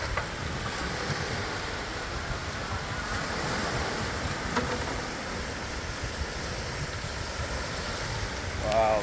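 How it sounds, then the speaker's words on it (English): Ocean waves wash steadily onto the shore at Sauble Beach, a broad continuous roar of surf with some wind buffeting the microphone, loud and close throughout. "Oh yeah, these waves are beautiful."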